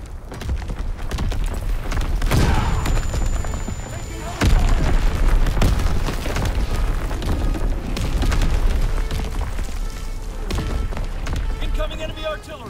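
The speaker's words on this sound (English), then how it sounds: "Incoming enemy artillery! Get to cover!" Heavy artillery shells burst in a Call of Duty: WWII battle, with deep booming blasts landing repeatedly, some very loud and close, among rumbling gunfire and battlefield noise, while voiced soldier shouts come through over the chaos.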